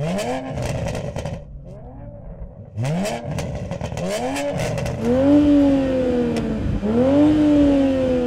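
A Toyota Supra's engine revs hard several times, its exhaust roaring and crackling as the pitch sweeps up and down, loud and close.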